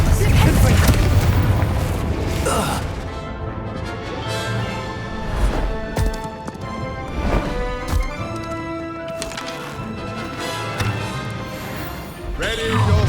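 Confringo spell blasts from Hogwarts Legacy combat, booming impacts breaking out of a dense, loud mix of game score and effects, with voices calling out spells throughout.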